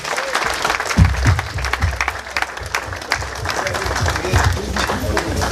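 Wedding guests applaud loudly at a church-style reception, a steady, dense wash of clapping with a few cheers, sustained evenly throughout.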